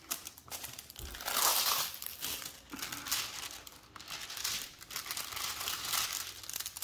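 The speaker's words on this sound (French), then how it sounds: "Désolée pour les bruits de plastique." Plastic packaging from a 30 by 40 diamond painting kit crinkles and rustles continuously as it is handled up close, with bursts of louder crackling and no talking.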